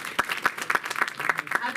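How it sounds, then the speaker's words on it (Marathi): Audience applause at an award ceremony honouring guests with mementos and citations, a short burst of scattered clapping with spoken voices over it. "जोरदार टाळ्या व्हायला पाहिजेत"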